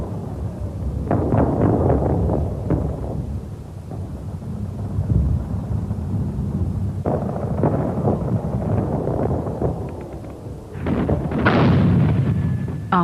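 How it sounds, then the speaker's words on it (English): World War I high-explosive artillery shells strike a target in a continuous roar of rumbling blasts and booms, heavy and sustained, with sharper cracks breaking through the din. "The camera was turning at the moment the target was hit by high explosives."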